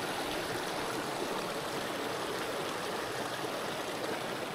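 A small mountain torrent flowing over rocks, a steady, dense rushing and babbling of water close by, unbroken throughout with no voices.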